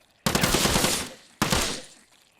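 AK rifle fire in the survival game Outbreak Island, two loud sustained automatic bursts, the first about a second long and the second shorter, close and dominant.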